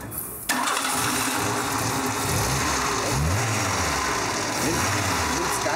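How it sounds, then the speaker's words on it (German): Glas 1700 GT engine cranks and fires after a brief quiet moment, then settles into a steady, slightly rough idle close by. "Du kannst jetzt reingehen, tust bitte einen Gang raus und startst einmal."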